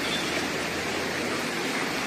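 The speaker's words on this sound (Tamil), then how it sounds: "இது ஐஸ் எல்லாம் கரைஞ்சி இந்த மாதிரி தண்ணியாக போகுது." Meltwater from ice runs in a stream at Pahalgam, Kashmir, a steady close rush of flowing water with even hiss and no voices.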